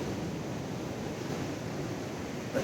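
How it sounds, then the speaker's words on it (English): Large surf waves on a beach break in a continuous broad roar, mixed with wind buffeting the microphone, steady and loud throughout with no talking. "the waves are massive though"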